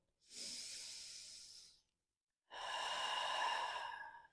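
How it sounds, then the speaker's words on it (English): Two long, deep breaths in a yoga standing forward fold, a soft airy inhale followed by a pause and a stronger, fuller exhale, close and quiet. "Deep breath."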